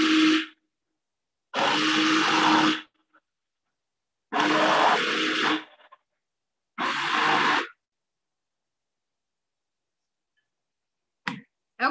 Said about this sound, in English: you can use your immersion blender and just blend it till it's about halfway blended